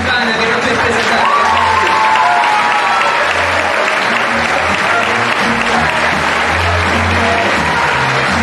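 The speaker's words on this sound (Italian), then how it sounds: "Un applauso sente a lui" A live audience at a public festival applauds loudly and continuously, dense clapping filling the space with some cheering mixed in.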